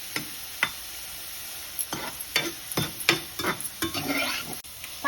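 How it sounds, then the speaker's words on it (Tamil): Pineapple pieces roasting in a pan for pineapple kesari, a soft sizzle broken by several sharp spatula scrapes and knocks in an uneven rhythm, close and fairly quiet. "பைனாப்பிள் நல்லா ஒரு 2 மினிட்ஸ் வறுத்தோடனே"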